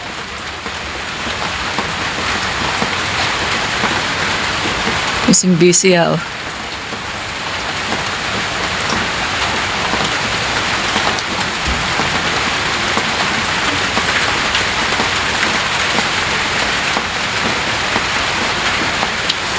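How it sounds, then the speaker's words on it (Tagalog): Light, steady rain patters on surfaces outdoors, a dense continuous hiss throughout, with a brief louder rustle or knock near the middle and a short spoken word over it. "Mahina naman yung ulan guys."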